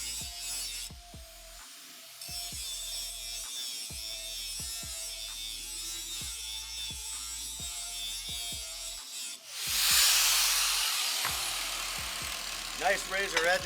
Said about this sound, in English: That is the fastest way that I know of to sharpen blades.